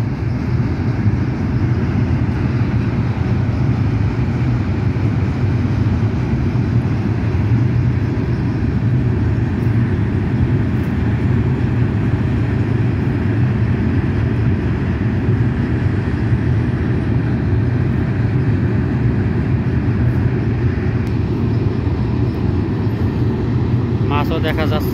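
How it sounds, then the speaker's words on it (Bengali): A train passes near a waterside ring-net fishing spot in the morning, giving a loud, steady rumble that fills the whole stretch without letup. "ট্রেন যায় আছে"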